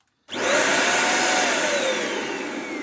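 A Hoover vacuum cleaner switches on after a brief silence and runs with a loud, steady roaring whine close by, its motor pitch settling slightly as it continues alone.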